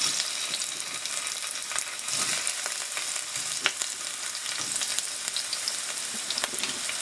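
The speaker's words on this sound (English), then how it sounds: "my oil is ready, so I'm gonna go ahead and add my onions" Chopped onions sizzle and fry steadily in hot oil in a home kitchen pan, a continuous crackling hiss with occasional sharper pops throughout, heard alone with no talk.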